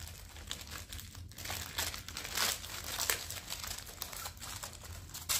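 Jewelry packaging being unwrapped, plastic wrap crinkling and rustling continuously up close at low volume, with no talking.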